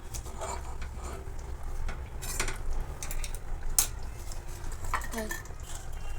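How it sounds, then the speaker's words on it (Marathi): Mixed vegetable curry is stirred in a metal pan, with repeated clinks and scrapes of a spoon against the pan at an irregular pace over a low background hum, recorded close. "याच्यामध्ये परत एकदा व्यवस्थित मिक्स करून घेणार आहोत"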